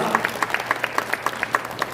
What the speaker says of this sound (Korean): 우리 이렇게 뜨겁게 열강해 주신 우리 교수님께 감사의 박수 한번 하겠습니다